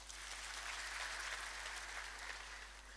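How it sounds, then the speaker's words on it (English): Audience applauding at a formal gathering in Ethiopia, a dense, steady wash of many hands clapping together for the full stretch, fairly loud and evenly sustained with no talk over it. "Please give a warm clap for those."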